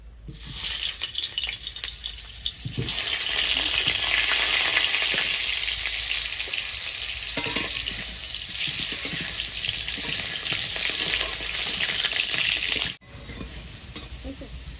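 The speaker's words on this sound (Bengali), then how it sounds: "তেল আমার গরম হয়ে গেছে। আমি দুটো আলু কেটে রেখেছি, আলু দুটো আমি আগে ভেজে নেব ভালো করে, লাল লাল করে।" Cut potatoes fry in hot oil in a wok, giving a loud, steady broadband sizzle for about thirteen seconds before it suddenly drops away.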